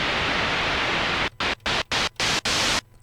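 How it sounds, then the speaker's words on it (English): White noise from a Roland JP-8080 synthesizer hisses loudly and steadily, then cuts into a run of short, evenly spaced bursts with silent gaps before stopping. "another thing I want to point out is the white noise."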